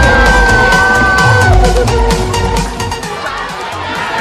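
A loud crowd cheers and claps at the launch of the Battle Cry motorcycle by Trumph Motorcycle Corporation. The noise is sustained and boisterous for several seconds, with music in the background, and eases slightly toward the end.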